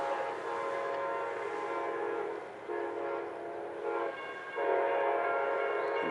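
Amtrak train 20 passes at close range in Coleman, Alabama, with a loud sustained rumble, steady rolling noise and swells of tonal horn that build toward the end.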